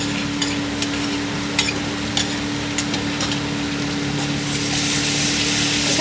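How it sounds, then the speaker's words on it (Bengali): Ginger-garlic paste sizzles steadily in a hot pan over fried onions as it is stirred, the continuous frying hiss broken by light, regular scrapes and taps of the spoon; no one speaks. "এখানে আদা রসুনের পেস্টটা দিয়ে দিলাম। দিয়ে ভালো করে একটু নাড়িয়ে নেব।"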